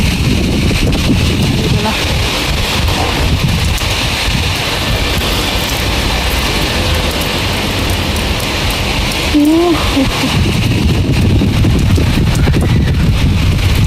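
Heavy rain pours steadily on a rooftop in a dense, continuous hiss that stays loud and close throughout, with a brief faint voice-like sound partway through.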